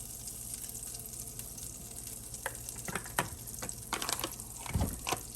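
Canola oil crackles quietly in a frying pan on a lowered flame while cooking coconut curry shrimp pasta, a faint steady hiss with a few sharper pops and clinks near the end.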